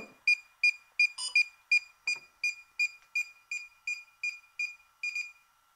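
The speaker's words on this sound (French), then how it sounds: "Le petit bip de confirmation, ça s'arrête de sonner." A series of short, evenly spaced electronic confirmation beeps from DJI drone goggles, about a dozen in a steady rhythm, clear and close with silence between them.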